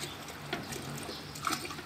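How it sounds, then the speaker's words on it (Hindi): Water pours into a large cooking pot for beef paya, a moderate, steady trickling and splashing close by with a few small bursts, and no talking. "और इसमें काफ़ी ज़्यादा पानी डालना"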